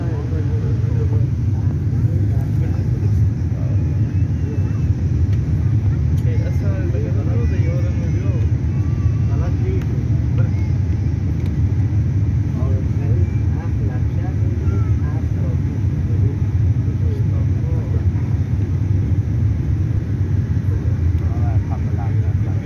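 Etihad airliner landing in Istanbul, heard from inside the cabin as a loud, steady engine and airframe roar with low rumble, unbroken for the whole stretch.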